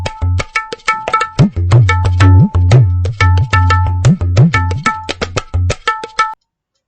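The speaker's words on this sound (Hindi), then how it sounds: "तबले की आवाज थी।" Tabla drumming played alone and close, a steady rhythmic run of sharp strokes with bouncing, pitch-bending bass hits from the larger drum, lasting about six seconds before stopping.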